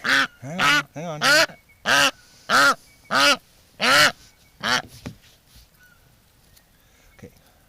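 A wild duck caught and held for tagging on a winter outing gives a rhythmic run of about eight loud, close, nasal quacks that slow and fade into quiet handling noise.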